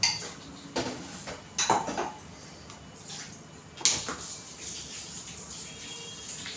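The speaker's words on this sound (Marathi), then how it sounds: "आता मी मिक्सर उचलते" A mixer jar is lifted and set down with a few sharp metallic clinks and knocks, separated by short pauses in a quiet kitchen.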